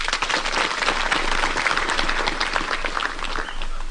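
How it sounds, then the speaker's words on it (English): A crowd applauds a retiring military commander at a formal ceremony, steady, dense clapping filling the room for the full stretch without a break. "Please extend a round of applause to him."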